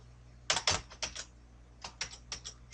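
Keyboard shortcuts are tapped on a computer keyboard with quick, light key clicks in two short clusters separated by a brief pause, close and fairly quiet.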